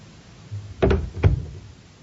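Two dull door thumps, about half a second apart, from a front door being opened and shut as someone heads out into the street, close and clear with nothing else around them.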